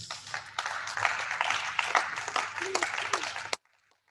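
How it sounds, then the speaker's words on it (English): An audience at a book and music album launch claps with some scattered cheers mixed in, the applause fairly close and busy before it cuts off abruptly into near silence. "Ladies and gentlemen, a round of applause"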